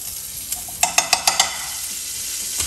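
Butter melts in a frying pan before cooking flathead fish, a steady sizzle broken by a quick run of five metallic taps or scrapes, then continuing alone.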